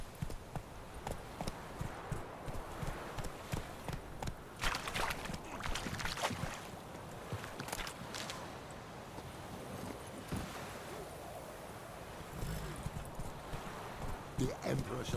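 Hooves of Geralt's horse Roach pounding along a path in The Witcher 3, a steady rhythmic clip-clop under ambient wind and game sounds.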